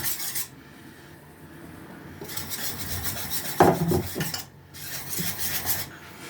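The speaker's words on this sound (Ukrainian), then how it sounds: "Замішуємо тісто." Dough for lazy pies being kneaded by hand, flour gradually worked in: steady close rubbing and rasping against the bowl in rough bursts, with a brief knock midway and no voices.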